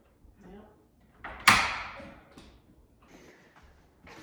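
A door in a cabin under construction is swung shut and checked for fit, giving one sharp latching knock followed by lighter handling taps and rattles, with people talking nearby.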